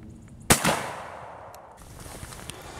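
A single loud shotgun blast fires heavy metal waterfowl shot through a full choke, with a sharp close report followed by a quick second crack and a long decaying echo outdoors.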